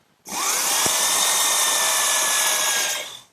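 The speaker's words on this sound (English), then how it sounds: "I'm going to drill a 1/4 inch hole about a 1/2 inch deep" A power drill whirs steadily, boring a 1/4 inch hole into a wood blank for about three seconds, a high sustained whine with a faint pitch rise as it spins up, close and loud.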